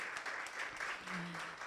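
Audience at a Women in PR summit applauds a speaker, a brief even wash of clapping from a crowd with a faint voice or tone underneath.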